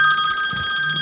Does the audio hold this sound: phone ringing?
yes